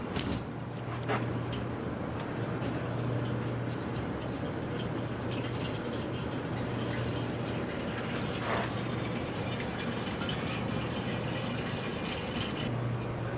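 Engine oil drains from a Ford 6.7L Powerstroke diesel truck into a catch can, a steady faint trickling pour that runs continuously and evenly, with no talk.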